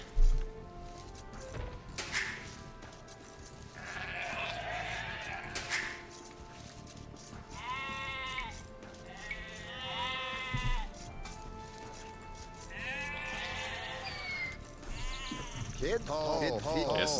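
Sheep bleat repeatedly in the video game Age of Empires II: Definitive Edition, several wavering calls spaced through the passage alongside game effects and occasional soft footsteps, with a person talking at times.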